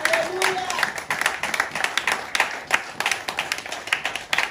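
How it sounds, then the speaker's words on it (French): A church congregation clapping during a Sunday thanksgiving service, a steady patter of many hands at moderate distance with voices faintly mixed in. "Acclame Jésus pour la parole"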